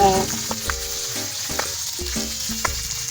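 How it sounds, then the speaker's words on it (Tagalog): Fish frying in a pan, a loud continuous sizzle of hot oil with periodic crackles and light knocks of a utensil throughout. "yung isda. Piniprito ko na."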